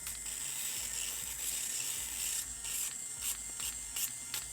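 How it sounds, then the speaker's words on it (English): An electric callus foot sander grinds steadily with a high, rasping whir, punctuated by brief scraping strokes as it works across a surface at close range. "This sander here is amazing. It's actually a foot sander."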